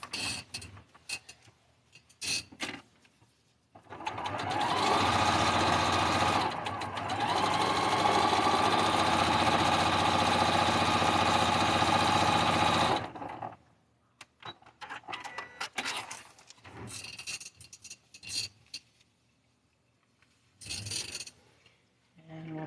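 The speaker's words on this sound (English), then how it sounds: "while I do the long walk to the sewing machine." A sewing machine runs steadily for several seconds, a loud continuous mechanical whir with a brief pause, then quieter handling noises and clicks afterward.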